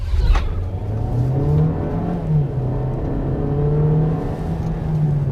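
Engine of a 2025 Volkswagen Taos with its 1.5-liter turbocharged four-cylinder revving steadily, with a deep droning hum that rises and falls slightly, heard up close and continuous.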